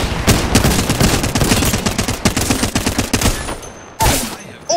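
Rapid, loud video-game gunfire from Rainbow Six fills the moment: dense bursts of shots in quick succession, a brief pause, then one more sharp burst near the end.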